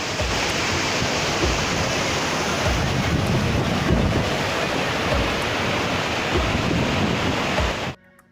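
Steady, loud rush of the Yamuna River flowing at Yamunotri fills the scene continuously, a broad roar without pauses, cutting off abruptly at the end.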